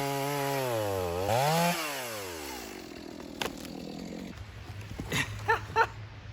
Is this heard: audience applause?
no